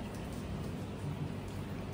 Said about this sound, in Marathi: तर पाऊस पडतोय.